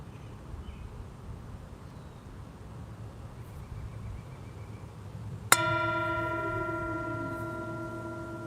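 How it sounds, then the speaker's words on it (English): A single mindfulness bell strike at an outdoor church service rings out clearly and sustains with a long shimmering decay, following quiet ambient outdoor background with faint birds. "As we're invited to enjoy the sound of the bell"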